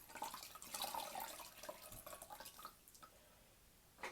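A silicone face cleansing brush dipped in a sink of water, with light drips and splashes scattered through the first half before fading to quiet trickles and one final drip.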